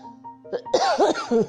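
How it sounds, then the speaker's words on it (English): A short fit of harsh, raspy coughing, several quick barks in a row, close up and loud after a brief quiet moment. "I'm coughing, choking myself."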